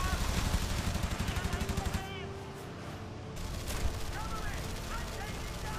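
Enemy rear gunners fire machine guns at a fighter in the IL-2 Sturmovik air combat game, with rapid rhythmic bursts of gunfire over engine drone, a brief lull, then more firing.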